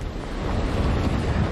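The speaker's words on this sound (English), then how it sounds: "we are feeling some of the winds, the gusts anywhere between 40 and 50 miles per hour" Hurricane Katrina gusts of 40 to 50 miles per hour buffeting a microphone in Mobile, Alabama: a loud, constant roaring rush of wind with no break.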